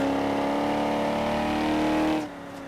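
A 1959 BMW 507 engine in the video game Forza Horizon 3 holds a loud, steady, smooth drone, then abruptly drops to a quieter idle near the end; no talking.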